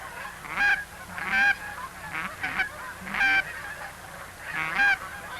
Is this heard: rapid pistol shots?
no